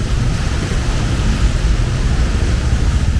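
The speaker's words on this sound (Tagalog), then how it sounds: "Lakas ng ulan." Heavy rain pours in a dense, loud, unbroken roar with deep rumbling and wind-like hiss throughout, close to the microphone and with no voices.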